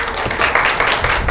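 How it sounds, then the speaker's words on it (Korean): A lecture hall audience claps to welcome a biomedical engineering professor before a science talk on nanotechnology in healthcare, giving a short burst of dense, even applause. "그럼 박수로 강의 청하도록 하겠습니다."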